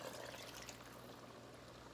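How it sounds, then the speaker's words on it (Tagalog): Water pours steadily into a pot of arroz caldo, a Filipino ginger chicken and rice soup, making a quiet, even splashing stream for a couple of seconds with no talk. "We add more water"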